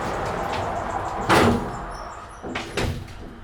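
The door of a Dover traditional hydraulic elevator slides closed after its button is pressed, giving a soft rumble followed by a couple of distinct thuds against steady background noise in a university building.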